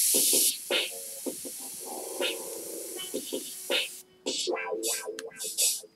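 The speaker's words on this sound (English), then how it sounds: "Try to spray on the card and go out." An airbrush hisses steadily as paint is sprayed onto card, a continuous close airy spray with brief interruptions and faint rustling and clicks, then short bursts near the end.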